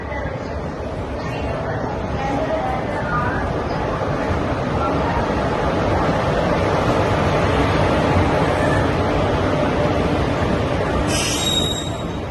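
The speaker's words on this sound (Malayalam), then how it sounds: "മംഗലാപുരത്ത് നിന്ന് കോയമ്പത്തൂർക്ക് പോണ ഇന്റർസിറ്റി എക്സ്പ്രസ് ആണ്." The Mangalore to Coimbatore Intercity Express passes close by, a loud, steady roar of rolling wheels and rail noise with a squeal near the end, running continuously under faint talk.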